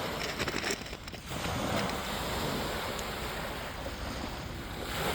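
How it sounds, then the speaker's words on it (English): Ocean surf rushes and washes continuously nearby, a broad roaring noise with gusts of wind buffeting the microphone. "because I know the waves are crashing"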